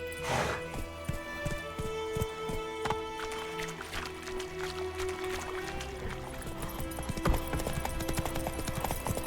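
Horse hooves clip-clop steadily in a fast, rhythmic gallop throughout, from a Witcher video game, with occasional harness jingles and ambient game sound beneath.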